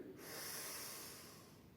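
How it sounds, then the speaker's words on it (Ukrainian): A single deep inhale through the nose during a yoga breathing exercise, soft and close, swelling and then fading over a couple of seconds. "Вдих."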